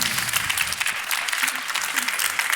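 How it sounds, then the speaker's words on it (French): An audience claps for the four speakers at the close of a talk, giving dense, steady applause from start to finish with some faint voices beneath it. "Vous pouvez les applaudir."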